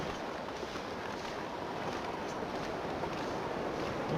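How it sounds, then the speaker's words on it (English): Steady, roaring video game wind blows without pause in The Long Dark, a broad rushing noise with faint buffeting, like a gale against the microphone. "Wow, it is so windy, it's hard to walk into the wind here."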